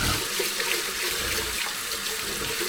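Rice is washed by hand in a pot of water, giving a loud, close, continuous swishing and sloshing as the grains are swirled.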